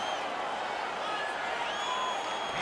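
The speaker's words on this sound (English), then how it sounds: "Yeah, this crowd on fire now here in the arena." A simulated arena crowd in the hockey game NHL 22 keeps up a steady, fairly quiet roar of cheering and clapping, with faint whistles and whoops heard throughout.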